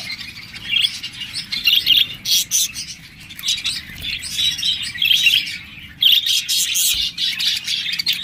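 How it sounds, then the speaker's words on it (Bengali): Several budgerigars chirp and tweet busily and continuously, a bright, chattering flock close by with no voices. "এখানে দেখতে পাচ্ছেন আরও কিছু বাজরিকারের পাখি রয়েছে"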